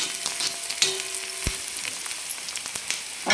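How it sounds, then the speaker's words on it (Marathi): Onion sautéing in a pan for pithla, a steady close sizzle and crackle with a few scraping stirs and a soft clink, and no talking. "मस्त खमंग सुगंध सुटेपर्यंत आपल्याला कांदा 2 मिनिट परतून घ्यायचा आहे."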